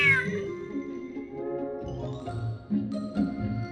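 A cat meows in Genshin Impact during the Feline Fortress Furrdyssey event: a long, loud, wavering meow opens, and softer calls follow over a steady game music bed.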